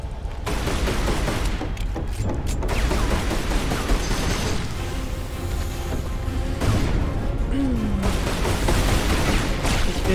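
Gunfire in the video game Tomb Raider Anniversary, loud bursts and rattling volleys of shots continuing throughout against dense background game noise.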